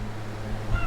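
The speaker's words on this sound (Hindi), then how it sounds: "बिल्ली का बच्चा है, कोई ज़्यादा आवाज़ करने लगा है" A kitten gives a short meow indoors, close and fairly loud over a steady background hum.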